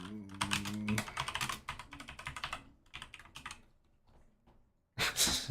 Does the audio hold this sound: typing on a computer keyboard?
yes